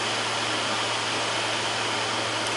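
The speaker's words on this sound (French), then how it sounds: "je vais à nouveau monter et je vais me mettre à 10 au volume maximum" A Dyson Hot AM04 fan heater runs at its maximum setting 10, giving a steady, close-up broadband whoosh of rushing air with a low constant hum beneath, unbroken and alone.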